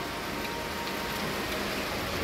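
Heavy rain pours down in a dense, even hiss with no pauses, close and steady throughout, with no voices.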